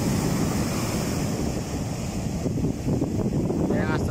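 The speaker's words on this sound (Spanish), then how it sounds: "cómo está el mar" Rough sea breaking hard on a beach in Chiapas during a heavy ground swell, with loud continuous surf and wind noise roaring throughout.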